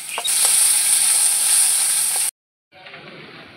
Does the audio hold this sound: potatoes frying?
yes